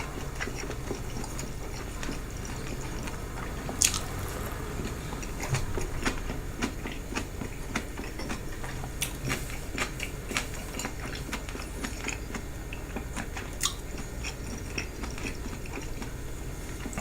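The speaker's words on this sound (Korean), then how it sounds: "소리는 물론 오독오독 소리가 나는데" Close, crunchy chewing of the cartilage in boiled pork belly, eaten with kimchi, with repeated small cracking bites and clicks spread steadily through a long stretch, with no talk.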